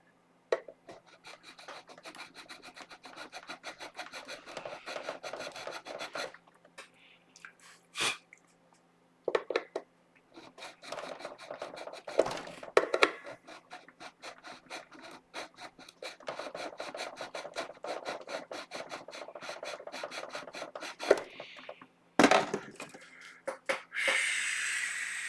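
Metal file rasping across high frets on a Cort Ouija guitar, close and steady with repeated strokes, pausing briefly now and then, with no talk over it.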